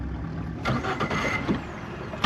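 A small aluminium tinny dinghy's outboard boat engine starts, a low steady motor hum with a brief surge as it catches and a sharp knock at the end, heard fairly close.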